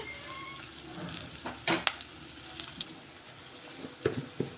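Chopped onion and green chili fry in a pan for capsicum curry, giving a quiet crackling sizzle with scattered louder pops and the occasional stir, and no talking.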